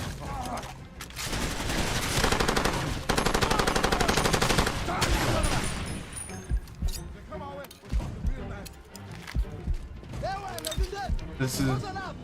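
Gunfire from a breaking gun in the video game Far Cry 2: dense rapid automatic bursts that falter into scattered shots and mechanical clatter, loud and close, with some talk mixed in.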